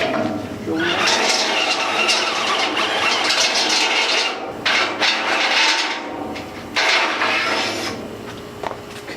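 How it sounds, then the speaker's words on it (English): A loud, continuous power drill grinds bigger holes through trailer metal with cutting grease, in sustained bursts, briefly pausing and restarting, with a harsh high-pitched whine. "we're gonna have to drill bigger holes"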